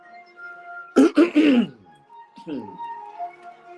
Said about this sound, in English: forgive me if I keep clearing my throat